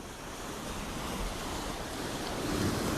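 Ocean surf at Long Beach makes a steady, broad roar of waves washing onto the shore, rising slightly toward the end, with wind buffeting the microphone and no speech.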